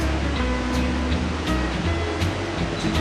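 Liquid poured steadily into a pot for coconut blanc manger, a Martinique dessert, a continuous loud rushing, splashing flow lasting throughout with no talk.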